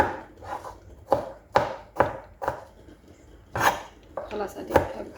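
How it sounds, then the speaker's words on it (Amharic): A knife chops fruit, apple and a similar fruit, on a board in a series of sharp, uneven thuds and clicks, about ten close cuts with short pauses between them and no talk. "ግን ከቱፋሁ ጋር አንድ አይነት ስለሚመሳሰል አንድ ላይ አድርጌ እየከተፍኩት ነው ማለት ነው"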